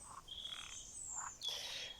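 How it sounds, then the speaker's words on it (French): Frogs croak in a clear, moderately close chorus, with repeated rising calls overlapping in bursts and a louder cluster toward the end, with no talk over them. "les grenouilles s'apaisent"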